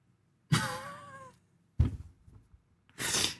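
A cat meowing: one drawn-out, wavering meow followed by a shorter call and a breathy sound, all fairly faint, with quiet gaps between them.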